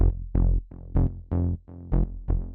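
An analog synth bass built from square and saw waves plays a bouncy pattern of eight short, punchy notes following a chord progression, each with a quick decay, alone and upfront.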